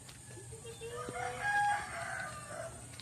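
A rooster crows once, a drawn-out cock-a-doodle-doo at moderate distance over steady outdoor background noise.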